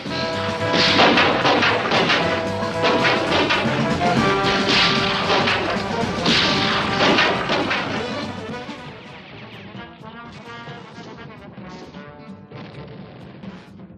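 Cartoon gunfire and explosions from the 1964 Jonny Quest animated series: loud, dense booms and crashing shots for about eight seconds, fading into a quieter stretch with music-like tones.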